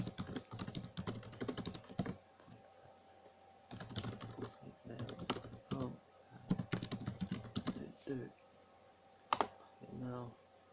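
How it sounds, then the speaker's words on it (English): Computer keyboard typing in quick bursts of close, crisp key clicks with pauses between runs, logging in with a password, while a person talks intermittently between the bursts. "I'll log in if I can remember my password."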